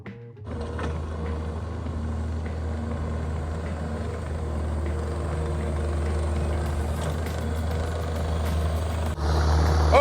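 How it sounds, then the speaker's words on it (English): A skid loader running close by, its engine droning steadily and rising slightly as it drives around and works the boom up and down, with a brief shift in the mechanical noise near the end and no talking. "in the skid loader driving around, putting the boom up and down"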